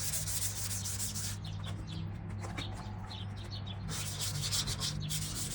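Steady back-and-forth rasping of wet sandpaper on a new 1976 VW Beetle fender, close and continuous, with stronger scrubbing bursts at the start and end and faint bird chirps in the background.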